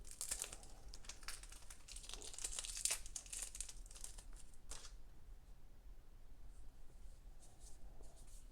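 Packaging being pulled off a box of CeraVe Psoriasis Moisturizing Cream, a steady run of crinkling, rustling and tearing close by, busiest early on and quieter toward the end, with no talking.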